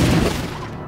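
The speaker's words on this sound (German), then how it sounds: "Das bringen wir zum Explodieren." A single booming explosion in Luigi's Mansion 2 HD hits hard at once, then rumbles and fades over about a second.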